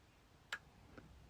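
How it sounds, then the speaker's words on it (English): Relays inside a repaired iBoost unit click twice in a quiet room, one sharp, distinct click followed about half a second later by a fainter one. "Listen to the relays clicking."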